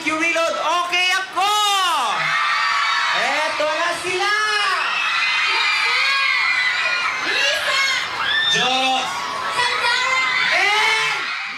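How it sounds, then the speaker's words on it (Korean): A dense crowd packed in front of a department store cheers and screams in repeated loud, high, swooping bursts of whoops and shrieks for Sandara, continuous throughout. "산다라 목소리가 들리자 가장 많이 환호하는 사람들."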